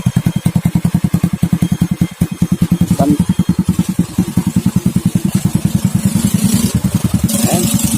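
A Rusi MP 100 100cc motorcycle engine idles close by with a fast, even chugging pulse, rising slightly in the last seconds, with no ticking knock after repair of its starter chain, flywheel and roller chain guide.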